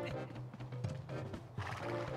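A horse in the Zelda: Twilight Princess game snorts and whinnies, faint and breathy with a low voiced tone, brief throaty bursts recurring over a quiet background.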